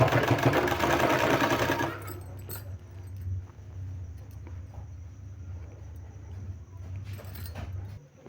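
Sewing machine stitching a folded fabric sleeve design, a steady loud whirring run for about two seconds that stops abruptly, leaving a low hum and faint handling sounds.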